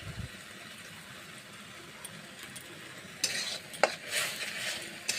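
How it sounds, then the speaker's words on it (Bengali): Mashed ridge gourd being stirred and mixed with salt and sugar in a pan, with quiet moments first and then bursts of scraping and clinking from a spoon near the end. "এবার একসাথে আবার মিশিয়ে নিচ্ছি"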